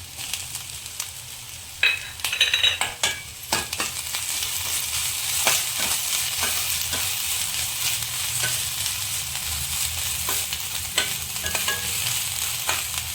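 Onions sizzle and fry in a pan for jeera saaru, a steady crackling hiss punctuated by sharp stirring scrapes and taps of a utensil against the pan throughout.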